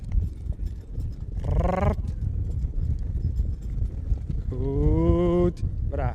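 Friesian horses in harness clip-clop steadily at a breeding show in Oost-Nederland, their hooves up close and continuous, with a whinny-like tonal call rising twice over the rhythmic steps.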